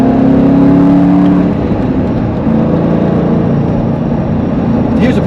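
A Corvette's engine pulls steadily under acceleration from inside the car, a continuous loud drone with a rising whir and road noise throughout, no voices.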